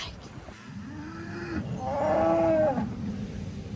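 A cow on an Australian sheep farm moos twice, long low bellowing calls close by, the second one louder and rising slightly in pitch.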